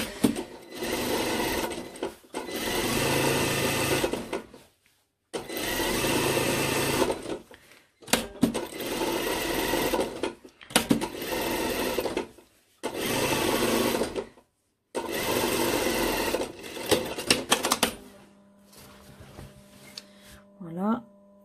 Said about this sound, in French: je vais aller surpiquer avec ma couture couchée vers le dos